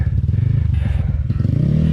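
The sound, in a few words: motorcycle riding over rough ground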